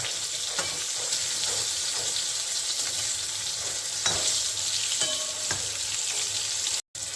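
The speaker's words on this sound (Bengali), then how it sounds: "সেই বেগুনগুলোকে আমি হালকা ভেজে নেব।" Steady loud sizzling of eggplant slices frying in oil, with occasional soft clinks of a utensil, no talking.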